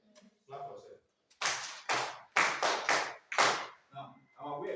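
A theater class on mathematics claps for themselves in a few short, separate bursts of close hand clapping, with voices between them.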